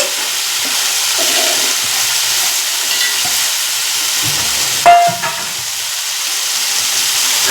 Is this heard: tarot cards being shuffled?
no